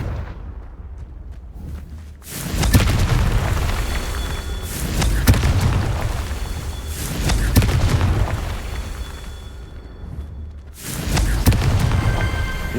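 Confringo fire spells from Hogwarts Legacy go off as a string of loud, booming explosions, with several heavy blasts separated by rumbling, crackling decay.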